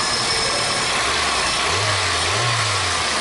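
A 1998 Toyota Corolla engine, just given a tune-up after a misfire, runs up close with a steady mid-pitched hum and two brief rises in revs toward the end.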